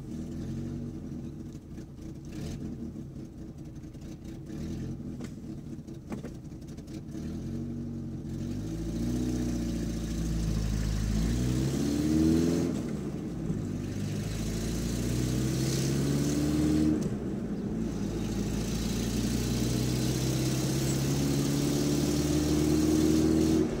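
A car engine running on gas idles quietly at first, then revs up through several rising and falling pulls as the car drives, a close, mid-pitched drone with no talk.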